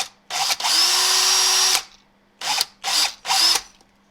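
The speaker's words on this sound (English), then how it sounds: "mark the spot where that lead was and then drill it out" A power drill boring out the lead weight spot in a handmade jerk bait: one long high-pitched whirring burst, then three short bursts in quick succession, close and loud with quiet gaps between.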